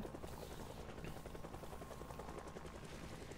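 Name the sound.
helicopter in the video game Project Zomboid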